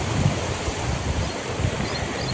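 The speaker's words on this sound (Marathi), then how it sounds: "जोरदार वेगानं पाणी जाते बघा." The flooded Maan river rushes past in a loud, steady roar, with gusting wind buffeting the microphone throughout.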